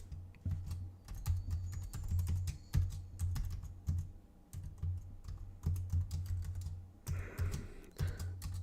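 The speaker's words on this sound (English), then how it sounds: "I'm looking at my keyboard and I'm slower at typing." Keys clatter on a computer keyboard in close, irregular bursts of quick clicks with short pauses, the typing fairly soft and uneven in pace.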